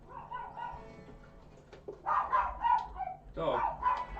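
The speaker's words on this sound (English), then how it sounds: "That's a dog." A dog gives a few sharp barks and higher yelps in short bursts, fairly close and moderately loud, with quieter pauses between the outbursts.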